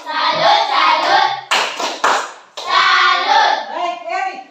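A classroom of pupils does a rhythmic clapping cheer, brief bursts of patterned claps between a teacher's chanted words and the class's reply, close and clear.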